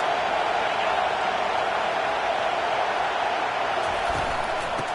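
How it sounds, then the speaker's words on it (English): Steady roar of a stadium crowd in a college football video game, a dense, continuous wash of cheering noise filling the whole span at even loudness, with no clear pauses. "Listen to this crowd just shaking the girders of this place, trying to help their defense."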